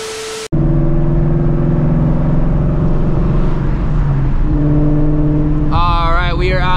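A Shelby GT350 drives on the road heading to an early morning car meet, with a loud, steady engine drone and tonal exhaust hum heard from inside, shifting pitch as it changes gears, and a rising rev near the end.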